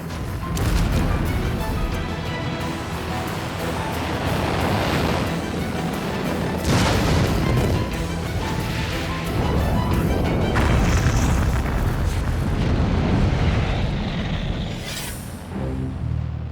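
A four-stage Juno rocket carrying the Explorer S-1 satellite explodes after a self-destruct command, heard as a long, loud, continuous roaring and crackling rumble with repeated booming surges, sustained for over fifteen seconds.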